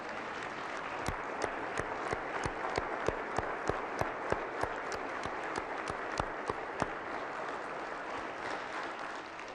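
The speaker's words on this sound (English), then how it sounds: "Please give them a wonderful round of applause." A crowd claps steadily at West Virginia's 2021 State of the State Address, a warm wash of applause with a few sharp individual claps standing out, sustained at a moderate distance.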